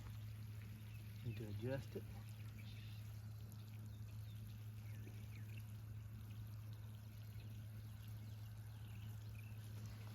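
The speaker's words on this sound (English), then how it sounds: "We have water coming out on this." Water runs from a newly installed garden watering system in a soft, steady trickle and stream under a constant low hum, with someone talking briefly nearby.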